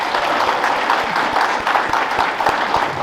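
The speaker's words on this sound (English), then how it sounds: "Let us give him a round of applause." An audience at the Richland County Player of the Year banquet applauds for a sponsor, a steady wash of dense clapping that holds evenly for a few seconds.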